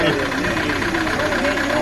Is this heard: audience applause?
no